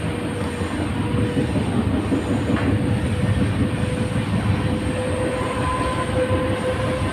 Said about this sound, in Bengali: ট্রেন দেখতে দেখতে পেছনে চলে আসবে।